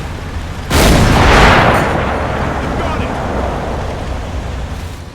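M8 armored car firing its gun in a WWII tactical war game: a single sudden heavy boom that rolls into a long fading rumble.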